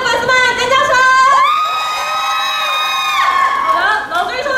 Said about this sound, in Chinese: 朝你的粉丝们尖叫声！